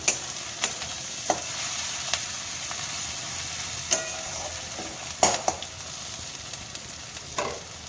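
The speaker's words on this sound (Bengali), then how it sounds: "রসুনটাকে একটু ভালো করে পেঁয়াজের সাথে ভাজবো" Garlic frying with onion in a pan for a fish curry, a steady soft sizzle with occasional sharp clinks and scrapes of a spatula stirring against the pan.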